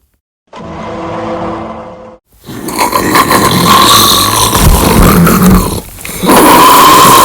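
Very loud snoring close by at night, opening with a voiced groaning breath, then a long harsh rasping snore with a brief dip before the next one.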